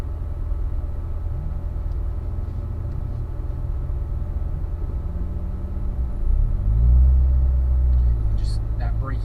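A car's engine rumbles low and steady from inside the cabin while it brakes and downshifts during heel-toe practice, with a clear rising rev blip and engine swell near the end.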